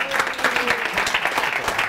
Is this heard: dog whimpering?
no